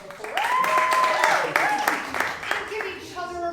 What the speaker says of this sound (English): Give me a round of applause if you've never seen an inconspicuous comedy show before.